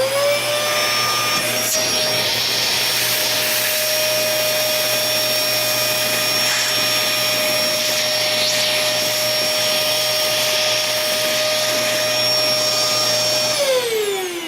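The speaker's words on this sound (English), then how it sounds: "And all you do is vacuum all this up and you have your ballast looking like that." A vacuum cleaner sucks up loose model railroad ballast from HO-scale track, running loudly and steadily for the whole stretch, with a high whine that starts, holds, then drops as the motor winds down near the end.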